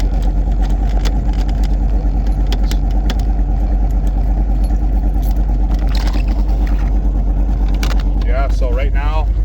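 A car engine with a quieted exhaust and a Holley Terminator X setup runs at a steady idle, a continuous low drone, while a voice speaks over it toward the end.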